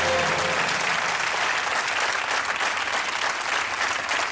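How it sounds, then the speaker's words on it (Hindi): Dense, continuous audience applause in a television quiz-show studio, loud and even throughout without letting up. "और तालियां बजती रहनी चाहिए देवी और सज्जनों"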